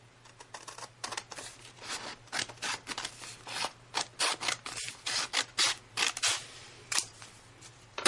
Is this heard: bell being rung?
no